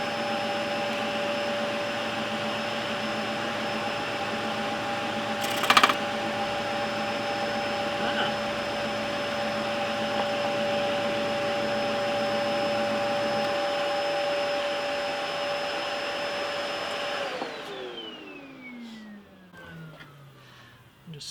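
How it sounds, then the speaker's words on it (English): A Record Power SS16V variable-speed scroll saw cuts wood with a steady, close buzzing drone and one brief sharp knock, then the motor winds down and fades near the end. No one talks. "Let's try some more cutting."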